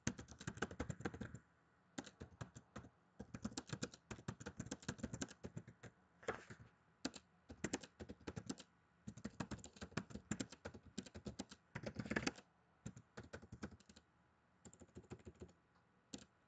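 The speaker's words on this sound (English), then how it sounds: "Oh, valuable time typing messages." Fast typing on a computer keyboard during a Marvel Strike Force session: dense, close key clatter in bursts with short pauses, and no talking.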